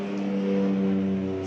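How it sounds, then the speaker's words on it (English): A small airplane drones steadily overhead, a continuous low, harmonic engine hum that holds at an even, fairly loud level throughout, with no talking. "little plane going overhead"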